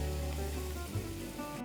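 A steady, close sizzle of chopped garlic and onion frying in oil in a wide pan, constant and even throughout the short stretch, with no voices.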